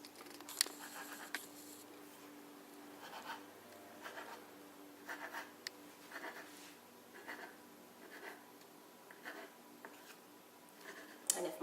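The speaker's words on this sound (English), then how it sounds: "we're going to cut the pasta, the rolled pasta," Small pieces of rolled gnocchi pasta dough being cut on a board in a home kitchen, giving soft, scattered taps and brushing scrapes at an irregular pace, fairly quiet and close, with no talking.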